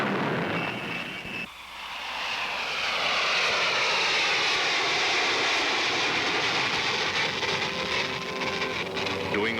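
A Lockheed SR-71 jet aircraft flying, a loud sustained roar that swells after a brief dip early on and then holds strong and broad to the end, with no talking over it.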